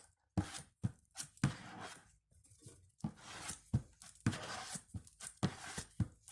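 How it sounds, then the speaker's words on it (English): Two-part resin filler being worked together on an old paint tub lid, a series of irregular scraping and pressing strokes with short pauses, close and fairly quiet. "So mix the resin together in the two tubes after you've squirted it out, and I'm just doing it on the top of an old paint tub."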